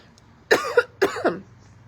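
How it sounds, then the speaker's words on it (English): Two sharp, close coughs in quick succession, each with a short rasping tail, against a quiet background. "I really feel like this cough I have had"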